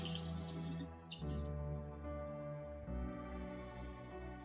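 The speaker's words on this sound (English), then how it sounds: "I'm rinsing off my rice." Tap water runs into a pot of rice being rinsed, two short bursts of rushing flow with a brief gap between them, then the water cuts off, leaving a faint hum.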